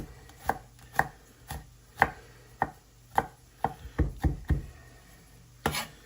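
A knife chops ingredients for homemade spaghetti sauce on a cutting board, sharp close knocks falling in a steady rhythm about twice a second, bunching into a quicker flurry near the end before one last louder strike, with no talking.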